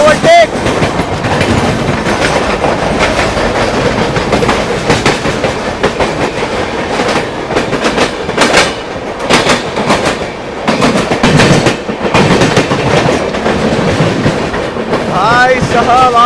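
The Lucknow Tejas train overtakes the 22449 Poorvottar Sampark Kranti Express in a loud, continuous roar of passing rail cars with rapid clickety-clack of wheels over joints, heard close and steady throughout.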